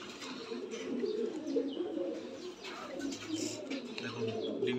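Fancy pigeons coo in a loft at Kakdip, with layered low, rolling calls from several birds running continuously at moderate volume.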